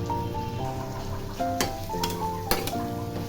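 Spices, turmeric, salt, sugar and Kashmiri chilli powder frying in oil in a pan as they are stirred, a low sizzle with a few sharp spatula clinks, close and without talk.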